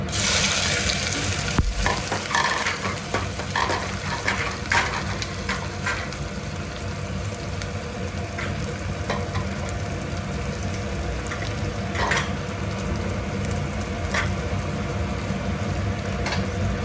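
Onions sizzle and fry steadily in a pan for Telangana-style mutton curry, with stirring scrapes and occasional clicks over a continuous hiss and no talk.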